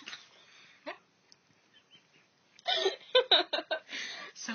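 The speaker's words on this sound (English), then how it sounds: "I think it was like a throat burp." A person's throat burp: a short croaking gurgle near the start, then a cluster of louder, rough gurgling bursts that may mix with giggling, close and fairly quiet, with no talk.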